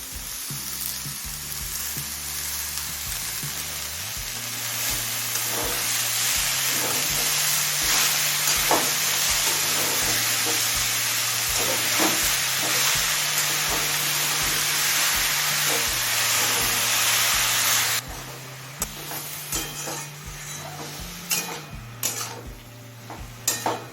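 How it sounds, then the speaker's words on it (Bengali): Fenugreek greens and mixed vegetables fry in a pan with a loud, continuous sizzle, while a spoon stirs and scrapes with repeated clinks against the metal; the sizzle drops sharply near the end, leaving sparser stirring knocks. No one talks. "শাকটা দিয়ে সমস্ত সবজির সাথে ভালোভাবে মিশিয়ে নিলাম"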